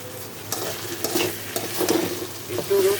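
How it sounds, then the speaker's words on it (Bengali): Garlic and ginger frying in a pan give a close, steady sizzle with brief stirring scrapes throughout. "একটু রসুন আর আদাটা একটু ভাজা ভাজা হবে।"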